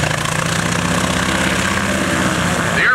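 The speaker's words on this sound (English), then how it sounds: "The airplane running out in front of us is the Wildcat with Lex Dupont at the controls." Grumman Wildcat piston aircraft engine running at an airshow, a loud, steady low throbbing drone with a rhythmic propeller beat, close by and continuous.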